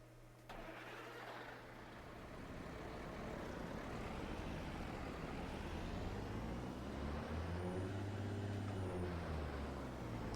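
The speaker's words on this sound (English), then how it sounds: "he dropped off his new truck. Let's hear this sucker." A newly delivered pickup truck's engine starts and settles into a steady low idle rumble that slowly builds and grows louder, heard fairly close, with no talking.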